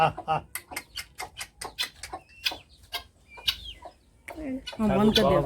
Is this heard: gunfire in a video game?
no